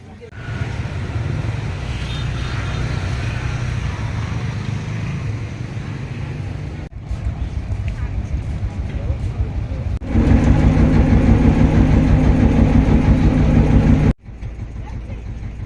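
Lantern boat on the river at Hoi An, its engine a loud steady drone and rattle that shifts and surges louder partway through, with brief cuts between passages.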